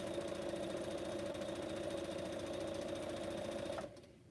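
A sewing machine stitching pineapple quilt blocks runs at a steady, fast mechanical hum with rapid rhythmic needle ticking, close and constant, then stops abruptly near the end.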